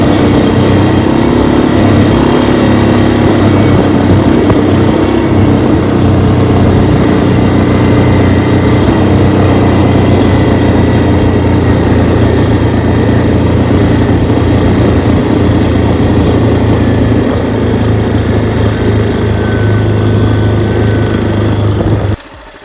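Four-wheeler ATV engines run steadily nearby, a loud continuous buzzing drone with a low rumble that holds for the whole stretch before cutting off abruptly at the end.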